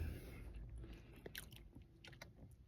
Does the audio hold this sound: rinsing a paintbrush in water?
no